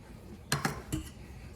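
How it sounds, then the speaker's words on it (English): Eggs being cracked into a measuring cup, two or three quick, close hard taps in a brief burst, then quiet. "I crack my eggs inside the measuring cup just in case there's any shells."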